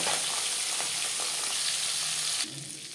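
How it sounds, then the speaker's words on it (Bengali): Pieces of rohu fish fry in hot oil with a close, steady, hissing sizzle that drops to a quieter level near the end, with no voices. "পরের মাছ একইভাবে ভেজে নেব।"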